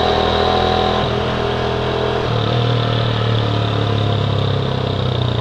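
A motorcycle engine runs steadily and loudly close by, a constant rumbling drone with a slight shift in pitch partway through and no voices.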